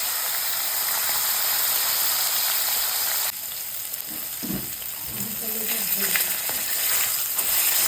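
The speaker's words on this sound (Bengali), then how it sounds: "এই আজকে রুই মাছ ভাজছি" Pond-raised rohu fish fries in oil in a pan with a constant close sizzle, joined partway through by clattering and scraping of a utensil against the pan.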